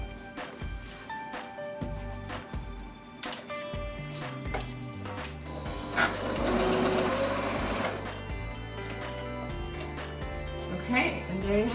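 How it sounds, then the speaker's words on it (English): A sewing machine hems curtains while they still hang on the rod, its stitching running in uneven bursts with a busy, dense middle stretch, mixed with household clatter and a voice speaking now and then. "Now that I've marked and pinned them, I'm going to go ahead and sew them."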